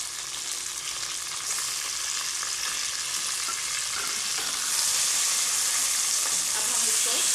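Chicken pieces frying with browned onions in a pan, a loud continuous crackling sizzle that swells a little partway through, with faint stirring underneath.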